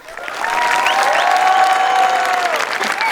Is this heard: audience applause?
yes